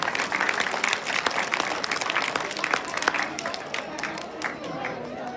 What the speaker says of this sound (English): So come on, a big round of applause for all of us.